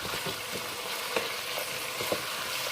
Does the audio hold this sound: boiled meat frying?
yes